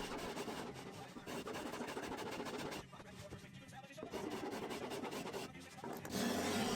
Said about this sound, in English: using a spoke shave, I carved a curve following those marks